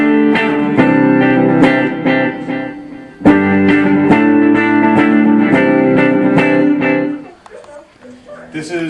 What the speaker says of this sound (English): This is kind of an echo effect, which I showed you before.